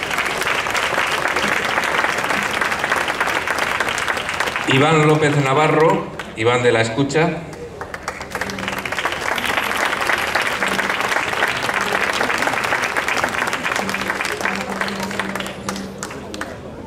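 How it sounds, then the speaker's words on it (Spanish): An audience at the 2019 final of a trovo improvised-verse contest in La Unión gives the finalists sustained, dense applause. An announcer speaks over it briefly midway, and the clapping continues steadily afterward. "Por favor, un aplauso."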